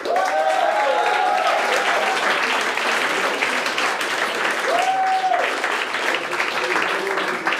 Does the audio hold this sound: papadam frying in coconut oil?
no